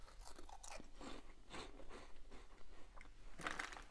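Crunching and chewing of Herr's Carolina Reaper potato chips, close and fairly quiet, with several crisp bites and steady chewing and a brief sharper crunch near the end, no talking.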